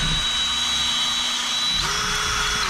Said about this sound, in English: I'll drill it to the right of that